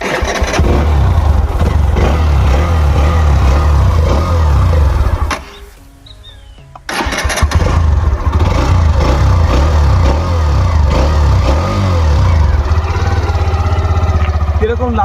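A black Hero Xtreme 125R motorcycle engine runs loud and steady at close range, briefly cutting out midway before catching again and settling into a continuous idle, with a voice speaking over it.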